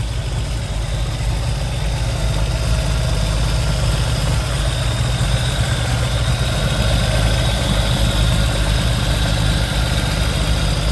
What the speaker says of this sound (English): Video of the engine idling on this race spec TR5.